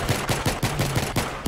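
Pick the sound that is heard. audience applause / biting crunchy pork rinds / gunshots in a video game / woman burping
gunshots in a video game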